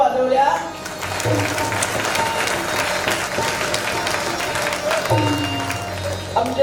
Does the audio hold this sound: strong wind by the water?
no